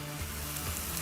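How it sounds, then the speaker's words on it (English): Onions and garlic sizzling in hot oil with cumin seeds in a pan, producing a steady, close crackling hiss that runs continuously and evenly with no voices over it. "So we're gonna go in with our onions. Love that sizzle."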